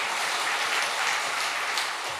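A church congregation applauds at a Korean Sunday service, a dense, even clapping that holds steady and fairly loud throughout, with no voices over it.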